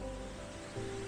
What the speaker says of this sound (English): one waterfall.